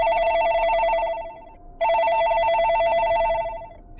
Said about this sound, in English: Ethan's phone receives a call.